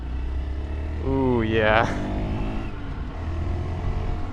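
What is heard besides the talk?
Honda mini motorcycle engine revving while riding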